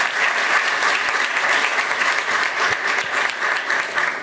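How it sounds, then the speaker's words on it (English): Sustained applause from the audience for Speaker Nancy Pelosi at a Library of Congress ceremony marking Mahatma Gandhi's 150th birth anniversary, a dense, steady wash of clapping filling the hall throughout. "A big round of applause for Speaker Nancy Pelosi."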